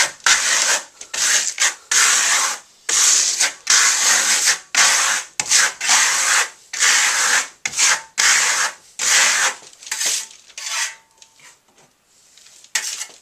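Steel trowel spreading and smoothing Venetian marblestone plaster over a base coat, a series of loud rasping, scraping strokes in a quick, irregular rhythm with short pauses between passes, heard close with no voices.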